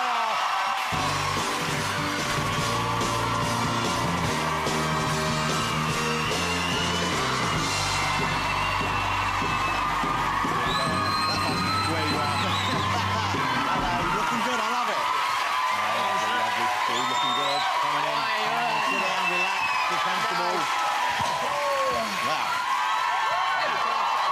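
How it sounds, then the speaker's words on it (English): Studio audience at a television chat show screaming and cheering as a boy band appears, a loud unbroken wall of high-pitched shrieks with music underneath early on, sustained for the whole stretch. "You know, we had a little bit of screaming then."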